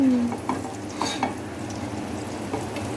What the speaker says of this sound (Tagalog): Nagigisa pa lang kami ngayon.